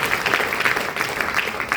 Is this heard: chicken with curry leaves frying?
no